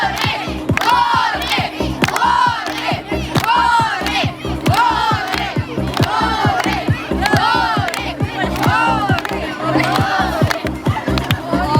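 A crowd chants loudly and rhythmically in unison at an Ivan Kupala festival bonfire, repeated shouted calls pulsing steadily close by, with children's voices among the group.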